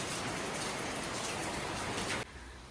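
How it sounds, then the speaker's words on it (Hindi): Heavy rain pours steadily, a dense loud hiss of drops drumming on surfaces outdoors during a rainy day, then drops sharply in level near the end. "इतनी भयंकर बारिश लगी है।"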